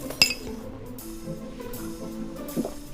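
Drinking glasses clink together in a toast: one sharp, bright clink near the start, then a low, quiet room murmur for the rest.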